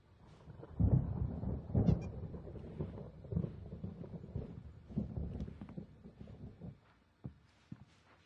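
Storm thunder in the video game Alan Wake, heard as repeated low rumbling bursts that swell and fade over several seconds, fairly near and without speech.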